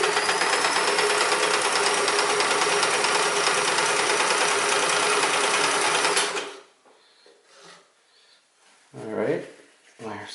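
Sears Kenmore 158 series sewing machine stitching, a loud continuous fast whirring buzz for about six seconds that stops abruptly, followed by quiet handling sounds and a voice talking.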